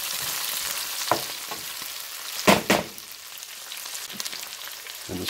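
Blanched Brussels sprouts sauté in a pan over a continuous sizzle, with a few louder scrapes and tosses as they are mixed, near and without talk.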